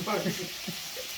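Onions fry in a pan with a steady close sizzle, while a voice speaks briefly over it.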